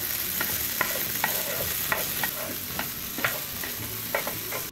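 Potatoes fry until golden in a pan with a soft, continuous sizzle, broken by regular light clicks and scrapes of stirring, close and fairly quiet.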